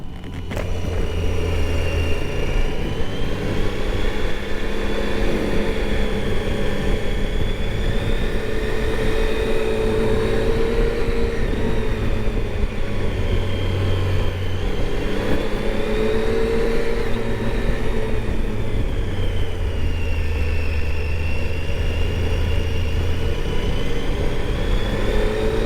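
A Triumph Tiger 800 XC motorcycle being ridden around East Sooke Point, its engine droning steadily and close with shifting revs and constant road and wind rush throughout.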